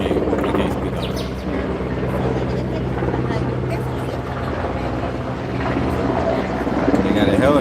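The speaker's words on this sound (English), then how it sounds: "They got a helicopter coming." A helicopter approaching and passing overhead, a steady loud rotor and engine drone filling the whole stretch, with people talking throughout.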